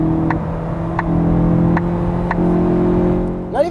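A 2022 VW GTI engine revs steadily under even throttle, a loud continuous drone heard from inside the car with a few short clicks, rising in pitch at the very end.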